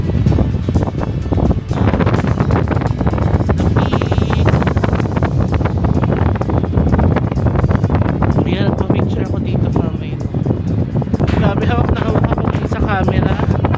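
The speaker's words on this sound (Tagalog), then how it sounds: "Ang lakas po ng hangin." Strong gusting wind roars against the microphone on an Alpine mountain peak in Switzerland, loud and continuous throughout, with a person speaking intermittently beneath the buffeting.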